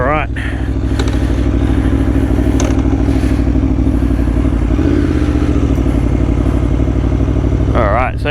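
Aprilia Tuono 1100 Factory V4 motorcycle riding: a loud, steady, close engine drone with rising rev sweeps near the start and end, a rider's voice speaking over it.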